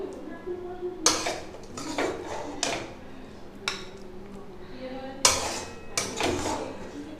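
A cooking pot clanks and scrapes against metal on a stove as it is lifted off after the gas is shut, giving several sharp close clangs spread over a few seconds, with no talk.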